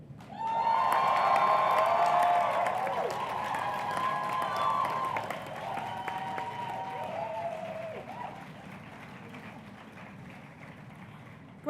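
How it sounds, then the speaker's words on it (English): A crowd of graduates at a graduation ceremony bursts into applause and whoops, loud at first and then gradually thinning out over about ten seconds, with cheering voices above the clapping. "applaud, you may whoop."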